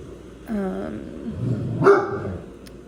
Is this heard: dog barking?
yes